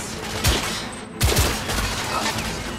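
Gunfire in The Order: 1886, two sharp close shots roughly a second apart, each with a short crackling tail, over a steady low game background.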